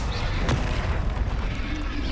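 In the Hogwarts Legacy video game, the Confringo explosive spell bursts with a deep, rumbling boom and a sharp crack near the start, followed by a heavy low roar.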